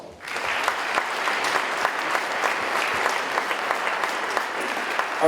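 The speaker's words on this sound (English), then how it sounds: "Ladies and gentlemen, a round of applause." An audience at a youth awards ceremony claps steadily for an art winner, a broad even round of applause from a hall, mid-loud and continuing throughout.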